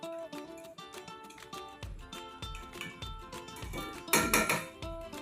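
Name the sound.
stirring chopped coriander into fish mixture with utensil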